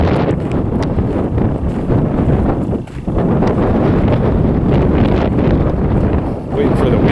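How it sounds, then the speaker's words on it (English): Strong wind buffets an outdoor microphone in a steady, loud low roar that dips briefly a couple of times and otherwise continues without break. "Waiting for the wind to die down before I start my story"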